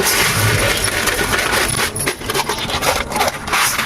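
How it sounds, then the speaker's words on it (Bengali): Vermicelli (semai) frying in dalda in a pan, with loud continuous scraping and rustling as it is stirred close up, broken by small clinks. "তুমি আমি সিমুইটা ভেজে নেব"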